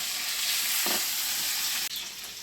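Broken-up fish heads frying in a pan, a dense close hiss of sizzling oil with a short scrape of stirring midway, no voices.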